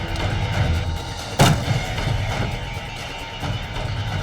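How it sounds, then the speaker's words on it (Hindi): Single blank-cartridge gunshot, a sharp sudden crack with a short boom that stands out over a busy, noisy background. "गोली चली जरूर थी, लेकिन वो एक ब्लैंक कार्ट्रिज था"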